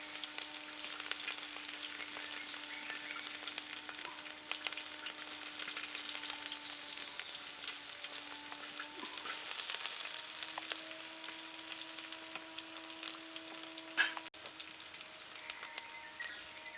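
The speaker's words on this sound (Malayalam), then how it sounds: "അതിലേക്ക് തന്നെ ഞാൻ ഒരു 2 സവാള കൂടി അരിഞ്ഞിട്ട് കൊടുക്കാൻ പോവാണ്" Sliced onions frying with ginger and garlic in a pan over a wood-fired stove for a beef bone curry, giving a steady close sizzle and crackle throughout, with a low constant hum underneath.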